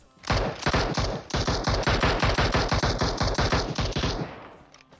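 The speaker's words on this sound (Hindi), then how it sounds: "कोई पीछे से भी गोली चला रहा था" Automatic gunfire in the video game PUBG Mobile: a short burst, a brief pause, then a long rapid stream of loud, close shots lasting about three seconds before trailing off.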